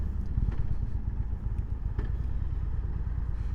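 Indian Chieftain Darkhorse 116 Stage 2 motorcycle from 2020, its engine rumbling steadily up close with a deep, throbbing low end and a few light clattering ticks, no voices over it.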